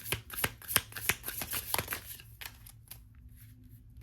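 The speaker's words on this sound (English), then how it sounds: "We'll keep shuffling." Oracle cards being shuffled by hand, a quick run of crisp riffling snaps and flicks for about two seconds that settles into softer rustling, close and clear with no talking.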